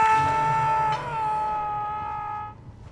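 A drawn-out tonal moan in the Dead by Daylight horror game, loud and wavering, holding steady before fading away near the end amid faint background sounds.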